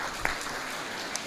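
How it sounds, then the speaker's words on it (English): A brief burst of steady audience clapping for children at a Saturday Love Feast lecture at ISKCON Dwarka, an even wash of applause from a seated crowd. "We should clap for them"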